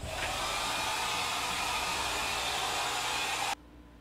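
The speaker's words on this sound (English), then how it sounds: "And again, you can take your blow dryer" A blow dryer runs steadily at close range, drying a washed-out screen printing screen with its broad whooshing airflow, then shuts off abruptly near the end.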